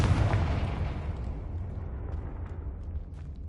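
A Confringo fire spell detonates in a Harry Potter video game, a loud booming blast at the start that rolls into a long rumbling decay, alone without talk.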